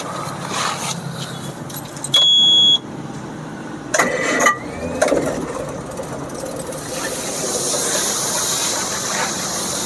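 A 1950 vintage car engine starts close by: a short electronic beep, then a cranking burst as it catches, settling into a steady running rumble and hiss.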